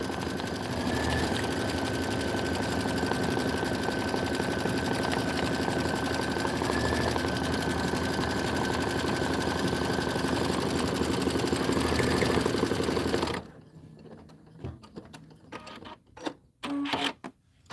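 An embroidery machine steadily stitches fabric for an autumn leaves and pumpkins design, a loud, continuous mechanical whir with a faint rhythmic needle pulse, running for about thirteen seconds before stopping abruptly and leaving scattered quieter clicks.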